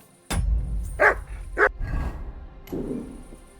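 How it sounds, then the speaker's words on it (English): A few sharp dog barks in the video game Kingdom Come: Deliverance II, loud and close, spaced irregularly over a low background hum. "Get out of here, mutt! No one wants to hear your barking."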